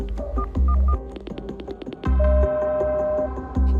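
A telephone number is dialed as a series of short DTMF beeps in quick succession, sounding clearly over a low musical backing with no speech.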